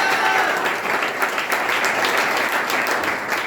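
Congregation claps loudly in praise of Jesus at a church service, a sustained dense round of applause from many hands, steady throughout with no voices on top.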